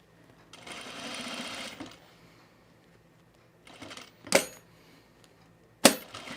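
A sewing machine stitches a blazer, one short burst of fast motor whirring and needle chatter, then a softer run followed by two sharp clacks.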